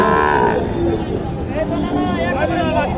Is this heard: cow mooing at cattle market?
yes